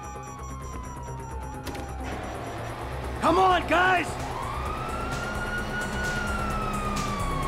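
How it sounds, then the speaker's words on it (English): Police sirens wail in GTA V gameplay, a steady rising tone with a brief burst of yelping warble, mixed under game noise while someone shouts. "you hear that? Sirens!"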